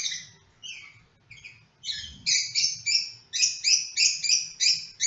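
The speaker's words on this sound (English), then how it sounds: "My bird apparently, they have a lot to say today" A pet bird calls and chirps close by in a room, giving a run of bright, repeated two-toned calls that start sparse and then come in a steady, loud rhythm, with a low hum underneath.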